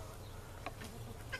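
A young rooster gives a couple of brief, faint clucks at a distance over a quiet background, with no voices present.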